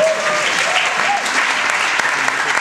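A concert crowd in Lima applauds a live performance: loud, dense clapping fills the space steadily, with some faint tonal sound and voices mixed underneath.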